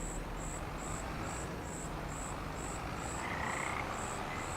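Frog croaking in the Farming Simulator 25 video game, a steady repeated high call pulsing evenly through the clip alongside cricket-like trilling over a constant background hiss, with no talking.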